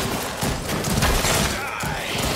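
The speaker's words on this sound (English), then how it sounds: "Running between me and the gunshots" Rapid gunfire bursts in the VR shooter After the Fall, dense thumping shots mixed with game noise and voices talking over them.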